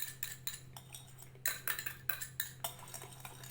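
Egg yolks are stirred briskly in a bowl with a metal utensil, a quiet series of sharp clinks and scrapes in uneven bursts over a low steady hum.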